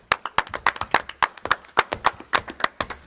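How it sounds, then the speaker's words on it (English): A small group applauds a youth football player after his second game at quarterback, with close, crisp hand claps in an uneven, sparse rhythm rather than a full crowd, steady for about three seconds. "let's give him a round of applause"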